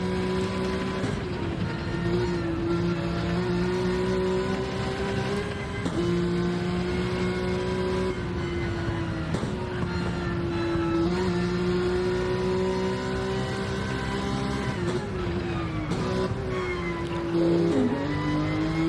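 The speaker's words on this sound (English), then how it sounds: "Early downshift to first gear, but good acceleration." Porsche race car at Fuji in a racing game, engine droning loud and close with rising pitch as it accelerates, several quick downshift blips and gear changes breaking the steady tone, plus a brief tire squeal near the end.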